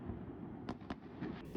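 Fireworks go off across Hong Kong districts in the early morning of Lunar New Year, two distant cracking bangs followed by fainter pops over a steady low background rumble.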